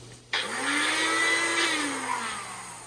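Blender running off a 1000 watt pure sine wave inverter, switching on abruptly with a loud whirring motor whine that holds steady and then winds down slightly, heard up close with no talk.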